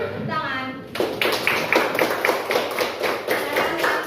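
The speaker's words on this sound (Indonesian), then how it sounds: "Ya, betul. Tepuk tangan." Students in a classroom clap in a brisk, rhythmic unison pattern after a short stretch of voices, the beats evenly spaced and moderately loud through the rest of the moment.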